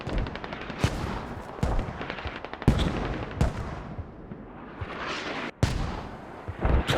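Mortar shells landing in the military shooter Squad boom repeatedly, about seven sharp, loud impacts at irregular intervals, each trailing into a rumbling decay, amid steady distant battle noise.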